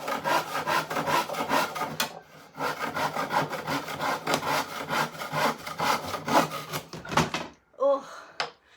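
Hand saw cutting wood during a flat renovation, rapid rhythmic back-and-forth rasping strokes close up, with a short pause and a few final strokes.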